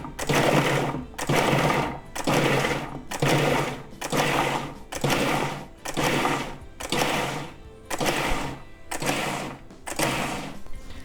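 A food processor pulsing a burger mixture, with about ten loud, evenly spaced motor bursts of roughly a second each, separated by brief pauses, close and clear with no talk.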